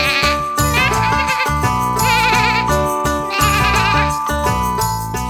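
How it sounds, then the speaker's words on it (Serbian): Sheep bleats with a wavering, vibrato quality ring out over a busy children's song about a farmer shearing sheep, blending with bright melodic music throughout. "Farmer šiša ovcu, farmer šiša ovcu, hej, haj, ovčice,"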